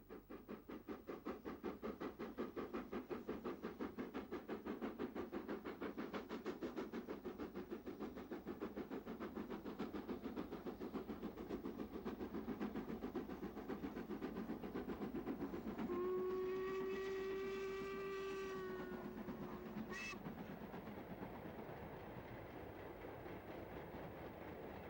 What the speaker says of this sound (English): the Stanier mixed traffic engine adding plenty of soot to the atmosphere